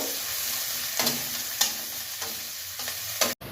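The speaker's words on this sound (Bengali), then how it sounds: "তাতে আমি ওই ঝিরিঝিরি করে কাটা ছোট পেঁয়াজটা ভাজবো, একটু লাল লাল করে ভাজবো" Finely sliced onions fry in hot oil in a wok, giving a steady close sizzle broken by several soft scraping stirs at irregular intervals, with no talking.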